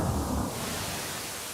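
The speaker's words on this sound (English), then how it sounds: "Put some angry thunder here" Angry thunder rumbles low and steady, a broad, dense roar that starts heavy and eases slightly as it rolls on, with no voices over it.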